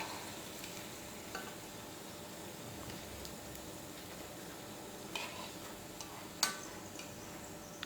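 Onion vadas deep-frying in hot oil make a constant low sizzle and bubble, with a few soft clicks and one sharper tap near the end.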